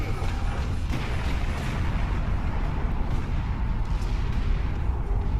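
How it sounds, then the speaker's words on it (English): Sustained gunfire in the Warhammer 40,000 video game Space Marine, a dense continuous rattle of shots and low rumbling blasts that runs without pause throughout. "You'd think the gun would stop firing."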